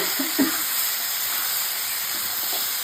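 Spices frying together in a pan make a steady hissing sizzle that stays even and close for the whole short stretch, with no talking over it.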